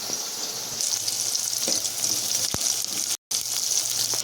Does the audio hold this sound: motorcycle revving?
no